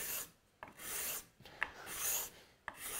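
A curved hand scraper draws across wood, lifting very thin shavings in repeated rasping strokes, each a soft scraping swell ending in a small click as the blade comes off, close and quiet.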